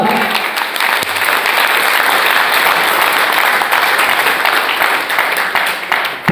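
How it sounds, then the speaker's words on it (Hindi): A seminar audience in a lawn venue bursts into loud, sustained applause, dense and steady throughout. "एक बार 10 तालियां बजनी चाहिए मंजीत सर के लिए।"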